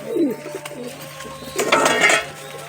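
A pair of Pakistani kamakar pigeons coo close by in a short throaty burst, followed by rustling and clattering; a voice speaks briefly.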